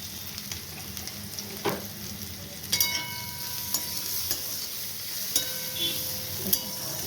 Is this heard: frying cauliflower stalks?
yes